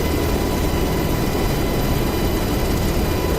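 Apache AH-64D attack helicopter engine and rotor in the DCS World flight simulator, a loud, constant, dense roar with heavy low rumble and turbine whine, heard alone without talk.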